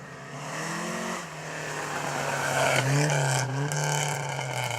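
An Opel Kadett GTE rally car runs a slalom course, its engine revving loud and close with rising and falling pitch as it accelerates between gates, tyres faintly scraping.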